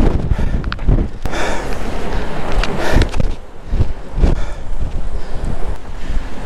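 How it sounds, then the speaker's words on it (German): Strong gusty wind roars and buffets the microphone at a paragliding launch site in Zoutelande, loud and continuous with sharp blasts surging every second or so. "Echt windig."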